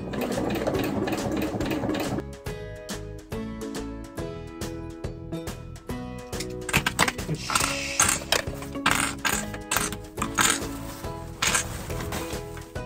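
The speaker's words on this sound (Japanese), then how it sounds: "これで片側縫いましたので、もう片側も縫っていきます。" A sewing machine stitches synthetic leather for a kei camper's pop-up roof, running in rapid close mechanical bursts with short pauses between runs, over quiet background music.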